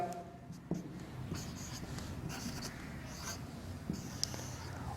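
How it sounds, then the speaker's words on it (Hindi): A pen writes out a matrix by hand on paper, with soft close scratching strokes and small taps in an uneven rhythm, quiet and steady, and no talk. "पहले ए मैट्रिक्स लिखेंगे आप"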